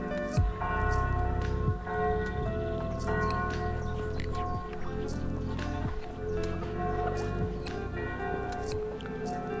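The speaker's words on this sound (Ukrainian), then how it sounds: "Чути дзвін від церкви на Миколая." Distant church bells of St. Nicholas church in Truskavets ring with sustained overlapping tones, faint beneath splashing water and scattered soft noises.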